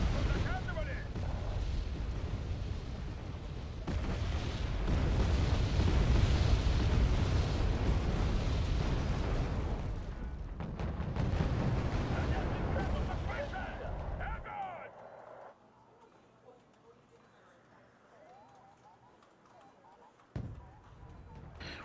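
Heavy artillery barrages in the video game Wargame AirLand Battle, a dense rumbling series of distant booms and blasts rolling on for several seconds before fading into quieter battlefield ambience, with a late sharp impact.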